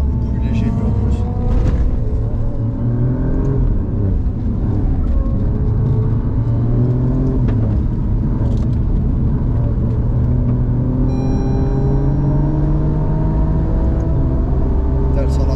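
A race car accelerates around a circuit in the Emirates, a loud, close in-car engine roar rising through the gears over about fifteen seconds, with a driver talking throughout.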